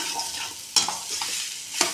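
Close sizzling in a pan on a gas stove with a spatula scraping and clattering twice as a carrot stir-fry is stirred.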